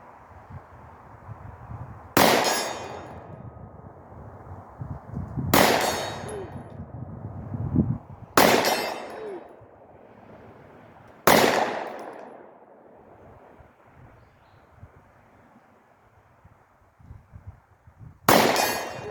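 Glock 43 pistol fired outdoors at a target 50 to 75 yards away: five sharp, loud shots spaced a few seconds apart over steady background noise, with no talking.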